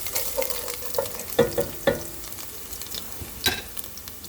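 Garlic browning in hot oil in a pan while being stirred for a ketchup-based pastaghetti sauce: a steady close sizzle, broken by several sharp spoon-against-pan clinks and scrapes, with no talking.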